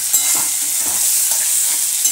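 Spices fry in a pan of fig curry, a steady bright sizzle running throughout while a spoon stirs with soft, intermittent scraping.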